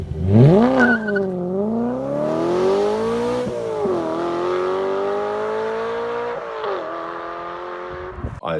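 V8 car engine revving hard, with a sharp rising rev near the start and then a sustained climbing drone, briefly dropping and rising again, loud and close with no talk.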